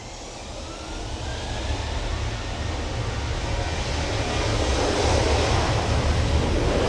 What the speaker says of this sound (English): .737 off to Shannon then.